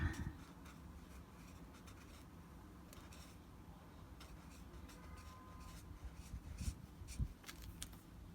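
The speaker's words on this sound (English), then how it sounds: "So let me write that stone in, prehnite." A pen writes in a bullet journal, a very quiet, close scratching of strokes on paper with soft rubbing and small ticks, with no talking.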